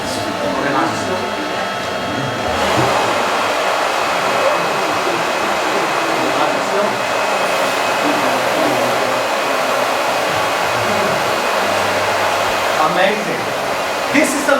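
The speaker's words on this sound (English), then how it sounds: "Don't want to be using your hair dryer without permission." Hair dryer blowing steadily upward to float a ping pong ball in a school science demonstration, a loud continuous whoosh lasting throughout with faint voices underneath.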